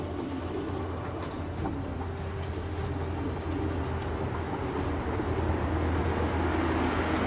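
A racing pigeon held in the hands coos softly in low, rolling murmurs, set against a steady broadband hum and distant background noise with no clear pauses.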